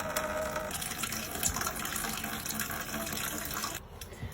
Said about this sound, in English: I'm just going to put some of the worm tea in